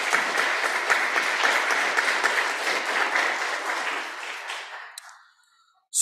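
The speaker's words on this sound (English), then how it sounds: "Let's give a round of applause to everyone." Sustained audience applause following a charity auction thanks, dense and steady clapping for about five seconds before fading out, ending in near silence with a brief sound at the close.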